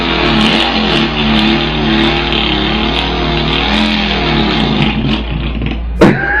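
A voice mimics a Volkswagen drag racing car revving, holding a steady, loud, buzzing engine drone with rising and falling pitch that cuts off abruptly near the end.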